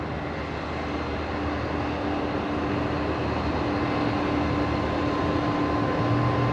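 Ex-American Airlines Fokker 100 jet airliner at Brisbane Airport produces a steady, continuous engine roar at moderate distance, holding even and unbroken throughout with no talk over it.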